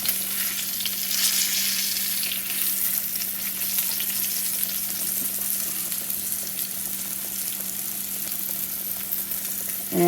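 Pork chops browning in a hot pan give a steady, even sizzle that stays close and fairly loud throughout, with no speech.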